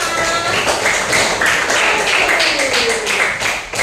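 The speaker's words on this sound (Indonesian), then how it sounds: "tepuk tangan untuk kita semua" A group at a teacher on-the-job training session claps together, a loud, fairly close and continuous patter of hands with a faint tonal sound sliding beneath it.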